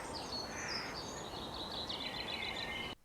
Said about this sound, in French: Un chant d'oiseau, 40 décibels.